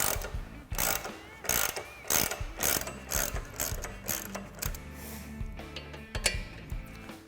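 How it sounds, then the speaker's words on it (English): A ratchet wrench loosens the rear shock mounts on a Harley-Davidson motorcycle, giving rapid, loud metallic clicking in repeated bursts, close up and steady, with no talking. "We can loosen up our shock mounts."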